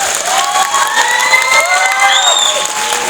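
A large crowd at a stage event cheers and shouts loudly, with whistles and high voices rising over a steady wash of applause that holds throughout.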